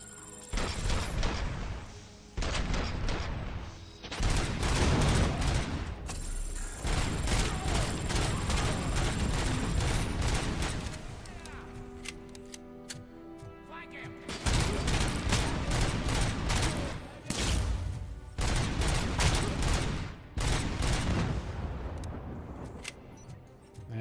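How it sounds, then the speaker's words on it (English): Machine gun fire in the RoboCop video game comes in long rapid bursts of dense, loud gunfire. The bursts are split by short pauses and mixed with mechanical game effects. "Machine gun."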